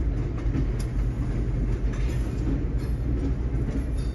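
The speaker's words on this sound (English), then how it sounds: "Look, it's a special train." A green train rolls past on the rails, a steady loud rumble with continuous low-frequency roar and faint wheel clatter throughout, close by and without voices.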